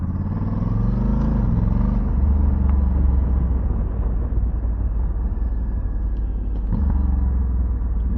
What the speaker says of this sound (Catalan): S'ha tirat un pet la moto.